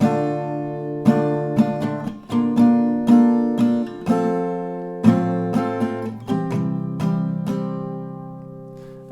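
One round of an acoustic guitar strumming pattern from a song: chords strummed close in rhythmic down and up strokes, with several chord changes and no voice.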